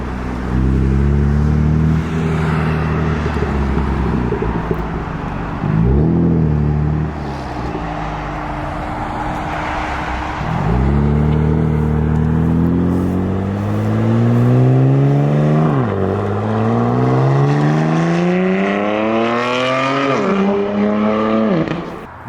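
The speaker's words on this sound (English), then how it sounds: "we got to get some sound clips with the Valvetronic exhaust." BMW F80 M3 with an equal-length exhaust revving hard, a loud, close engine climbing and dropping through repeated throttle blips and sweeping rev runs, with a steady drone between pulls.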